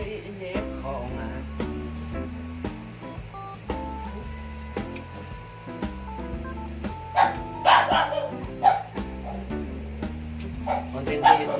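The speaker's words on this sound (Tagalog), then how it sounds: "Pagpasensya niyo po yung mga aso namin. Talaga maingay." Household dogs barking and yipping at home, a persistent noisy run of barks that builds toward the end, mixed with people talking nearby.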